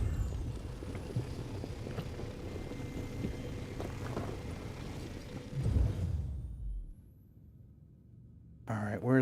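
A mining ship in Star Citizen hums and whooshes as it hoovers up mined rock, a low rumbling drone with shifting noise that cuts out abruptly near the end, followed by a short bright electronic tone.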